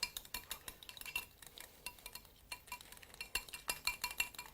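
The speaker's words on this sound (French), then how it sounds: "Le jaune, on le bat en omelette." Egg yolk is beaten with a fork in a bowl for a chocolate iced cake: rapid, uneven clinks and scrapes of metal on the bowl in bursts, close and clear.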